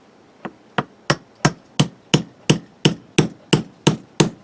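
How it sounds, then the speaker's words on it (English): A small ball peen hammer taps a persimmon golf club during restoration, making twelve crisp evenly spaced knocks that grow slightly louder, close up with no talking. "I like the smaller hammer, a little ball peen"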